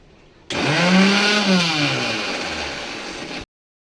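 An electric kitchen mixer grinds a masala of green chillies, coconut, roasted garlic and roasted onion for a village crab curry, whirring loudly with a rising, engine-like pitch for about three seconds before cutting off abruptly.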